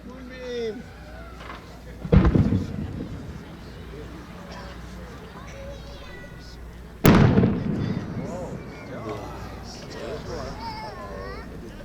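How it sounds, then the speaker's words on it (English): A 5-inch Maltese ring firework shell bursts at a fireworks event, giving two sharp booming blasts a few seconds apart. A crowd chatters and talks throughout. "the next one is by Kevin Mathur, and it's a 5-inch Maltese ring shells made in our seminar of the 5-inch Maltese shell making seminar."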